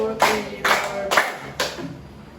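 Students in a classroom clapping in unison on a count, four distinct group claps evenly spaced about half a second apart, each with a short ringing tail, fairly close.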